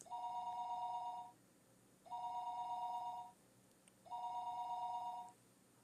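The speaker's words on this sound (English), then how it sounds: "Her phone would be ringing constantly" A telephone in a video game rings three times in an even rhythm, each electronic trill lasting about a second with a pause between, clear and alone.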